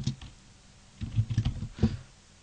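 Fingers tap out a short burst of keystrokes on a computer keyboard while entering MATLAB commands, a quick cluster of close, soft clicks after a brief pause, with no talking.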